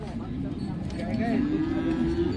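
A dairy cow, offered for sale at the Modnimb cattle market, gives a single drawn-out moo that rises in pitch. It sounds close and moderately loud over a low, busy market murmur.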